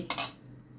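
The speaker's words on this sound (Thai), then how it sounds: "ตักน้ำในหม้อ" A ladle scoops water from a metal cooking pot during preparation of a pickled cabbage soup with pork ribs and shiitake mushrooms, giving one sharp metallic clink and a brief splash that fade quickly in a quiet kitchen.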